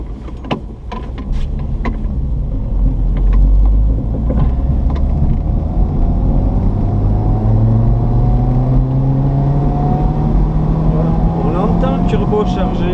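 Turbocharged Renault Super 5 1.1 with a GT28 turbo drives steadily, its engine note rising gradually through the gears over constant road and wind noise, with no talking.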